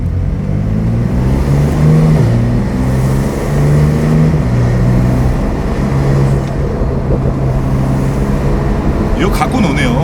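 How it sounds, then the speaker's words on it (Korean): A Porsche 911 Turbo S Cabriolet 992 in sport mode with the roof open, its exhaust droning and rising and falling steadily through curves amid constant wind rush, with someone talking over it. "레드 시트와 함께 이 어마어마한 배기 사운드를 제공하는 이 911은"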